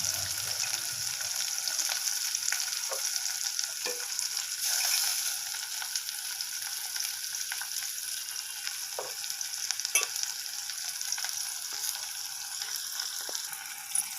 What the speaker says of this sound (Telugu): ఇక్కడ ఈ ఉల్లిపాయలు, మునక్కాయలు బాగా వేగుతున్నాయండి